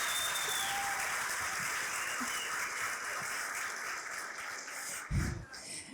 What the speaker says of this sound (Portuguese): Salva de palmas para Raquel